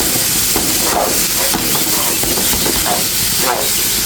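Rice, potatoes and spices frying together in a pot for egg biryani, giving a steady loud sizzle and hiss with scraping bursts as the mixture is stirred.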